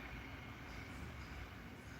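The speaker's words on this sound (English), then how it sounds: "That's a train." Train rumbling past at a distance, a steady faint low roar with broad hiss that holds evenly throughout, alone without voices.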